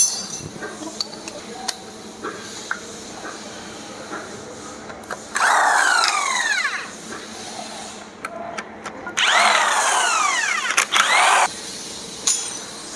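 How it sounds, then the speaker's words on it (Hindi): A power tool unscrews the gearbox body bolts on a Mahindra XUV 500 during repair, firing in two loud whirring bursts of about two seconds each, separated by quieter clinks and handling of metal parts. "अब हमको खोलना है इसके सारे बॉडी के बोल्ट, जितने भी ये बोल्ट लगे हैं सारे बोल्ट खोलेंगे"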